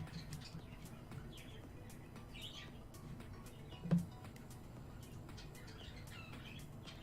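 Faint, sparse little chirps from a small pet bird indoors, plus one brief louder knock or flutter partway through, over a low steady room hum.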